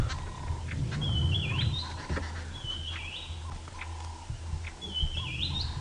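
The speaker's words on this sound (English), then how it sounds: "Lots of birds here. Babblers, yellow-billed hornbills, chugras." Babblers and yellow-billed hornbills call in the open during a sunrise safari drive, with repeated high chirping phrases over a steady low background hum and occasional rustling; no one speaks.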